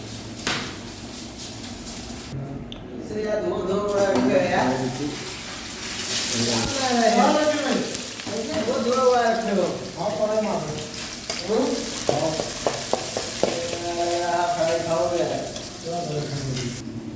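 Crushed ginger, garlic, cumin and green chilli fry in hot oil in a pan, a steady close sizzle that swells and settles while a voice talks over it for most of the stretch.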